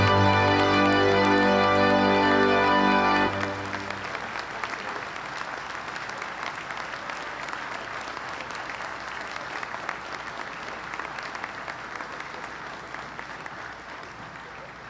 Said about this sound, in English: a really big round of applause for our Youth Award winners and our Spirit of Service winners